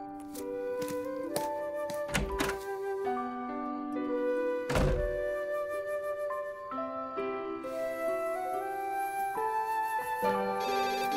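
A telephone rings with repeated melodic electronic tones that are moderately faint and steady, broken by a couple of dull thumps.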